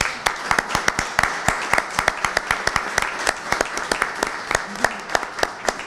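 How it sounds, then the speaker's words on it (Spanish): Audience at a book presentation gives loud applause, with sharp individual claps standing out over a dense, steady wash of clapping throughout. "un fuerte aplauso"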